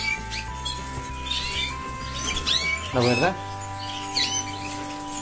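Young canary chicks chirp in a nest, with thin, high chirps and a short burst of rising calls under nearby talking.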